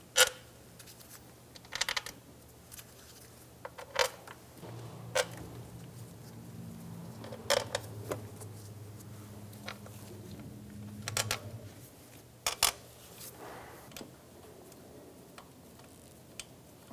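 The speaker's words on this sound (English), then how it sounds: "Go around and snug down all of the bolts." Valve cover bolts being snugged down by hand on a 2003-2007 Infiniti G35 engine, heard as sparse sharp ticks and clicks spread across the span, with a faint low hum running under the middle stretch.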